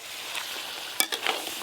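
Chopped tomato and capsicum drop into hot oil over cooked-down onions for a mutton curry, bringing a low sizzle and then a sharp burst of frying with a few clatters near the end. No one talks.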